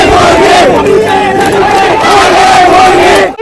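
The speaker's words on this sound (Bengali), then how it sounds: "ঢাকার রাজপথে জেনজির আন্দোলনে উত্তাল পরিস্থিতি। স্লোগান আমিকে তুমিকে।" A loud protest crowd chants slogans in unison on the streets of Dhaka during a Gen Z movement, many voices rising and falling in a steady rhythm, close and filling the whole stretch.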